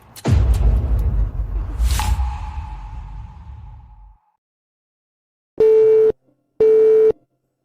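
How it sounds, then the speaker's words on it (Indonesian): A telephone busy tone beeps twice after a call is hung up, two loud, steady electronic pulses close to the listener. Before the beeps comes a rushing whoosh with a fading hum, followed by a short silence. "Kenapa Ayu memutuskan telepon"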